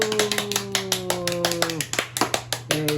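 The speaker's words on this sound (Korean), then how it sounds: "성공 박수." Children give a rhythmic 'success clap' at a Bible doctrine school camp. Sharp, evenly spaced claps repeat in a quick pattern alongside sustained voices.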